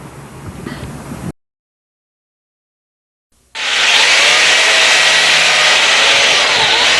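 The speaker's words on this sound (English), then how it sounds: "Chainsaws and hand tools make it possible to create beautiful works of art out of the simplest of materials." A chainsaw carving an ice sculpture, a steady loud broadband roar starting after a short silence and running without a break to the end, preceded by a brief stretch of quieter scraping.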